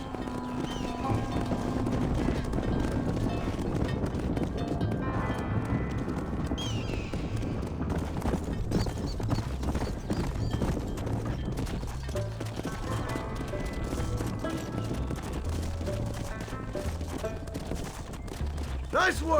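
Galloping horse hooves in the Western video game Red Dead Redemption, clattering steadily throughout under a dense, loud game mix with music and voices.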